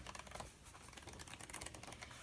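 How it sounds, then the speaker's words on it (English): Heavy 150 GSM Leuchtturm1917 sketchbook pages being handled, giving a dense run of close, crisp papery clicks and rustles. "You can hear that this paper is much heavier."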